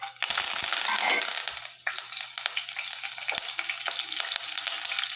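Cloves, cinnamon, red chillies and curry leaves hit hot oil on a low flame, bursting into a loud crackling sizzle that settles into steady frying with scattered pops and a clink or two.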